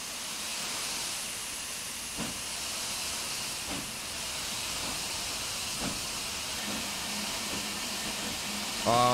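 Steam hissing from the open cylinder cocks of an LNER steam tram in Train Sim Classic, a continuous broad hiss with faint periodic puffs, steady and close throughout.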